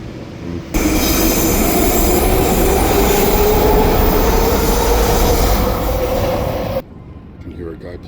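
A Vancouver SkyTrain Mark 1 train rolls past on elevated rails, a loud sustained rush with squealing wheels and rising pitch lasting several seconds before cutting off, with some background chatter.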